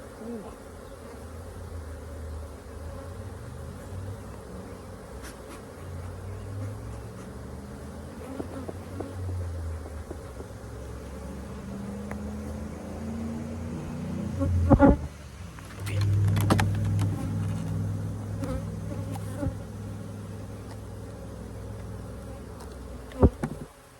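Bees swarm around an open hive during a beekeeping inspection of a queenless colony, a dense, continuous buzzing close by with a few louder knocks and rustles.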